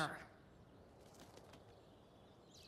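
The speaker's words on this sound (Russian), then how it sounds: "На птичку сгоним, давай." A bird flaps away in the video game Life is Strange: Before the Storm, with a short, loud burst of wingbeats right at the start that fades into quiet game ambience.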